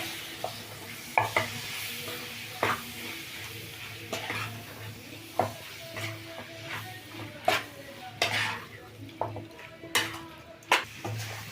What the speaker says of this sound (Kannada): ಚೆಂದಾಗಿ ತಿರುಗಿಸೋಣ